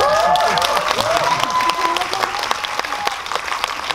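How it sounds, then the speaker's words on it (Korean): Audience applause during a talk after a film screening, sustained clapping from a seated crowd with a few faint voices and murmurs underneath, holding fairly even throughout. "야, 박수가 작잖아."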